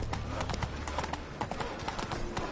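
Roach, the horse in The Witcher 3, gallops with rapid, close hoof clatter in an even rhythm that runs the full length, loud against the game's background.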